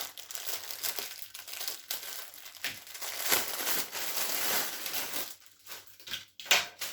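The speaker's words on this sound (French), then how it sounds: "Attendez, on va ouvrir ça." A parcel from an online order is torn open by hand, giving close, continuous crinkling and crumpling of plastic packaging with brief tearing bursts.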